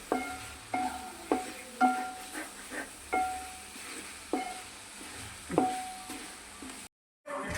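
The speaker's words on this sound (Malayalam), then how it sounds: "കുറച്ച് കുരുമുളക് പൊടിച്ചത് ചതച്ചതാണ് കേട്ടോ കുരുമുളക്. അപ്പം അതും കൂടി ഇട്ടൊന്ന് അങ്ങോട്ട് ഇളക്കി." Pork curry with crushed black pepper is stirred in a pan, each scrape of the spoon sounding as a regular clink over a soft, constant sizzle and ending in a brief silence.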